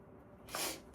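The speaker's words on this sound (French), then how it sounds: "Attendez, je vais éternuer." A single quick sneeze bursts out over a faint room background, close to the listener, with a sharp rise and a short breathy tail.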